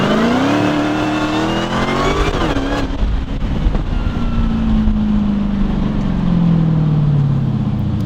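Dodge Hellcat with its engine revving, a loud close roar that climbs in pitch, drops off, then settles into a deep droning rumble that slowly falls away.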